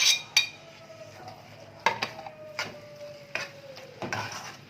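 A spoon stirring shakshuka in a pan, several sharp clinks and scrapes against the metal over a soft sizzle, fairly close and with no talk.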